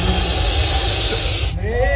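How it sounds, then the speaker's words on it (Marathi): An agitated snake hisses a warning after nearly being stepped on: a loud, continuous, breathy hiss like a pressure cooker's steam, held steadily and close, with a faint voice briefly underneath near the end. "तो फक्त कुकरच्या भिट्टी सारखा काय करतो, आवाज काढतो आणि चेतावणी देतो आपल्याला"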